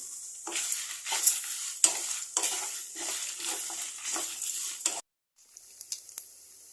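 Dry red chillies and tamarind frying in a pan, heard as close, steady crackling sizzle with repeated scraping stir strokes, then a brief silence before a quieter sizzle resumes.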